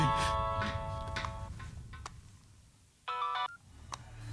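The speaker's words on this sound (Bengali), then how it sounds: "ফোন বাজছে।" A phone's electronic ring sounds in short tonal bursts, the last one clear and loud after a quiet pause, with faint background noise and brief voices early on.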